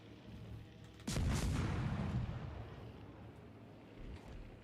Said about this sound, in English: Battleship shooting a destroyer.